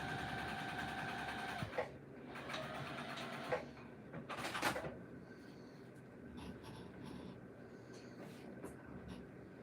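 A sewing machine stitching fabric for an apron, rapid mechanical clatter in several short runs of a second or so, close and moderately loud, with quieter whirring and handling between.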